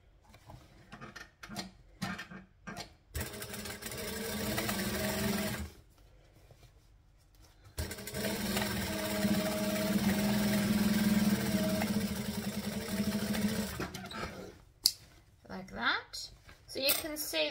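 A sewing machine runs a long basting stitch on a hacked siren bag in two steady sustained bursts, close and fairly loud, separated by brief pauses with light handling noise and talk around them.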